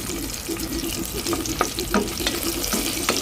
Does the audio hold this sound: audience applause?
no